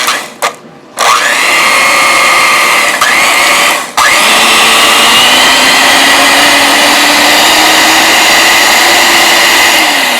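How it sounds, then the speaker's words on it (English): An electric hand mixer beats thick pumpkin roll batter. The motor stutters off and on a few times at first, then runs at a loud, steady, high whine for the rest. "well, come on, mixer."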